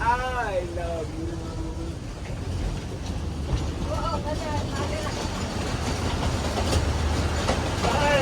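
The Matheran toy train running on rails, a continuous rumble and rattle of the carriages heard from on board, with people talking over it.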